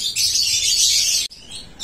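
Lovebirds at a large breeding farm in Jatrabari, Dhaka chirp densely in a continuous high, bright chatter of many birds close by. A brief gap follows, then the calls resume.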